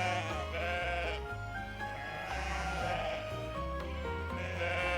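Sheep bleat in the game Love and Deepspace, wavering calls laid over a dense steady musical score, the whole thing fairly quiet.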